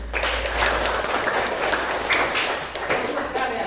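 Seventh-grade students clap together in a classroom guidance lesson on effective learning, a sustained, fairly loud burst of applause with some voices underneath.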